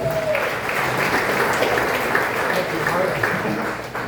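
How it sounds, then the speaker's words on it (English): Audience applause at a comedy show, a steady, dense wash of clapping from a crowd, sustained and fairly loud for the whole span, with faint voices mixed in. "Give her a round of applause"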